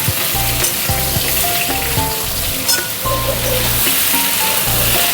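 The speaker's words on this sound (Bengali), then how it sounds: "এই ঝিঙেগুলো দিয়ে আবার ভালো মতন করে 3 মিনিটের মতো ঝিঙে আলু একসাথে ভেজে নেব।" Ridge gourd and potato fry together in a pan with a loud, steady sizzle that runs unbroken throughout, with faint tonal sounds in the background.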